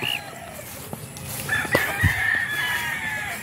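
Roosters crow among gamefowl, one clear crow close by over a background of clucking and other birds, with faint farmyard noise throughout.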